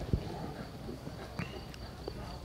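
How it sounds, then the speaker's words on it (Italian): Racehorses return along a track after a training race, their hooves giving a few scattered clopping thuds beneath ongoing background chatter and ambient noise. "i cavalli stanno rientrando"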